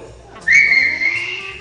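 A person whistles live on an Italian radio show, a clear sustained bright tone held for over a second, loud and close.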